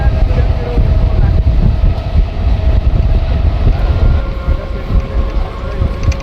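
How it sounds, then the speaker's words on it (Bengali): Steady loud low rumble and wind from a Bardhaman–Katwa local train moving slowly through a curve across open fields, continuous throughout without talk. "ট্রেনটা ধীরে ধীরে খুব সুন্দর একটা কার্ভ নিচ্ছে"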